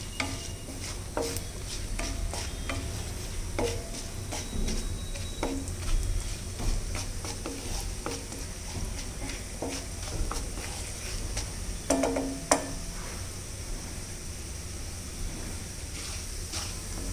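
Mustard seeds and split lentils (urad and chana dal) frying for a tempering in a pan, a steady sizzle with scattered small pops and ticks throughout, no talking.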